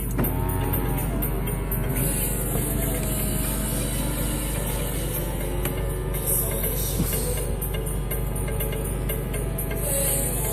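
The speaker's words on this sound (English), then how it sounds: "I'll just show you the roof operation." Power-operated convertible roof of a late 2001 Porsche Boxster S cycling with a steady mechanical whir and hum, a couple of brief shifts in pitch partway through, and no talk over it.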